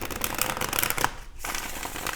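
A Golden Art Nouveau Tarot deck being shuffled by hand during a reading, a steady papery riffling and sliding of cards heard up close, briefly pausing before resuming.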